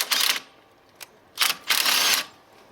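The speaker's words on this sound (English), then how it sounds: "Yep, you broke it. Broke the clamp." A hose clamp snaps and rips as an intake pipe is pushed onto an intercooled Infiniti G35's intake, giving a few sharp, crackling bursts close up with brief quiet gaps between them.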